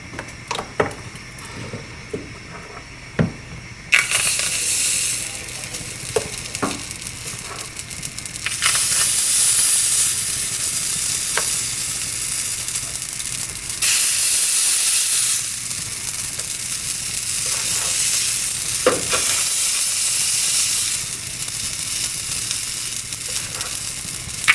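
Chitoi pitha rice batter hitting a very hot pan on medium-high heat, a loud, steady hissing sizzle that swells after a few seconds of quieter clinks and holds with brief dips.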